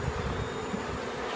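Bees buzz steadily around an open beehive during a beekeeping session, a continuous close, dense hum with no talk over it.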